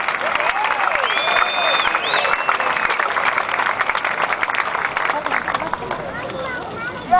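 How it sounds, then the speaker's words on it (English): Crowd applause and cheering at the Ironman Hawaii awards banquet, lively clapping mixed with whoops and crowd babble, with a voice talking over it and whistles rising early on. "How about a big round of applause?"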